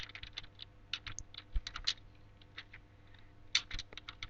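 Fingers tapping a computer keyboard while entering text into an Excel spreadsheet, with irregular clusters of quiet, close keystrokes separated by short pauses.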